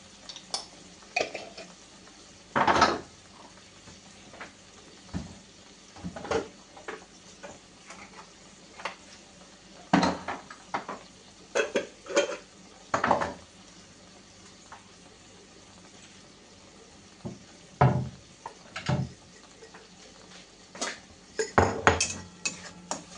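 Spices with Kashmiri chili powder and turmeric stirred in a pan, with repeated sharp scrapes and clinks of a utensil against metal in irregular bursts over a quiet sizzling background.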